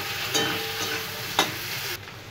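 Onion and brinjal fry in oil rendered from khoyra fish, a steady close sizzle broken by a couple of brief stirring scrapes, without talk.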